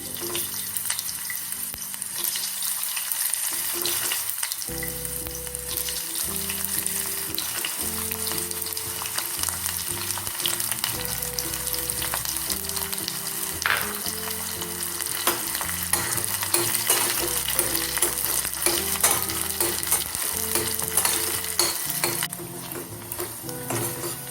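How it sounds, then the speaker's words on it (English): One medium chopped onion frying in a pan of spiced oil for prawn rice gives a steady, close sizzle that runs throughout, with occasional stirring clinks and a faint tonal hum underneath. "Now I'm adding the onions. This is 1 medium-sized chopped onion."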